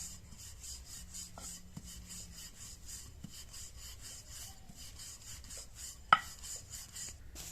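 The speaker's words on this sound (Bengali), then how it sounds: "হালকা করে বেললেই খুব তাড়াতাড়ি বেলা হয়ে যায়।" Soft roti dough is rolled thin with a rolling pin, making a quick, steady run of rhythmic rubbing strokes, close and quiet, with one sharp knock near the end.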